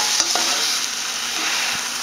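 Chopped eggplant stirred in a hot pan for vegetarian burritos, a steady close sizzle and frying hiss with soft scraping strokes of the utensil, no voices.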